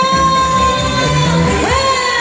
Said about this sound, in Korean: 네, 다시 한번 박수 한번 쳐주실래요?